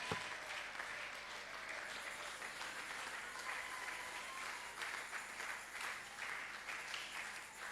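A church congregation applauding during a worship service, steady dense clapping throughout, moderately distant and filling the room, with no clear speech over it.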